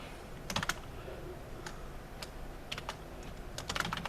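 Code being typed on a computer keyboard, a handful of close, crisp keystrokes in short irregular clusters over a steady low room hum.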